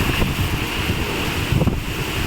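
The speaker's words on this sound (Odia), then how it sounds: "ଦେଖିପାରୁଥିବେ ପୁରା ଯାହା କିଛି ବି ଅଛି ସବୁ ପବନରେ ଉଡ଼େଇ ନେଉଛି" A strong storm wind blows dust and debris outside an office near Angul market. It makes a loud, continuous roaring buffet against the microphone, with no talking.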